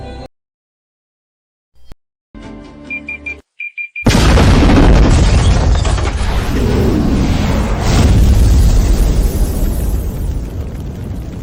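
A bomb blast in a dramatic scene: after brief scattered sounds and silence, a sudden loud boom bursts in and rolls on as a sustained, roaring wash of noise for several seconds.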